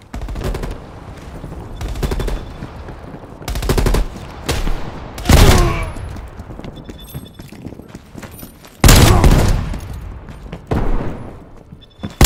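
Gunfire in Call of Duty: Black Ops Cold War, with loud, close bursts of rapid automatic shots and single heavy reports repeating across the stretch over a busy, noisy game soundscape.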